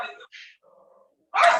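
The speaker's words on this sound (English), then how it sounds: "dogs, quiet, stop barking" Dogs bark in a home, a couple of short sharp yaps followed by a low whine, then one loud close bark, with brief silences between.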